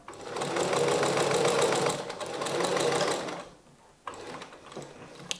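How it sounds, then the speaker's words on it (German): A sewing machine runs steadily, stitching a small curved seam in fabric to make a Halloween pumpkin basket, whirring for about three seconds before slowing, pausing, then resuming in short bursts. "Und wir nähen das einmal in einem kleinen Bogen ab."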